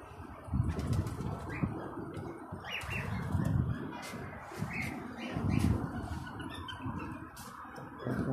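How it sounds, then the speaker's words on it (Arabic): Pigeons fly in and land to feed, their wings flapping in several loud, broadband bursts over a low rumbling background, with faint chirps and coos between the flurries. "تدخل الحمام تنزل تلاقي اكل توكل"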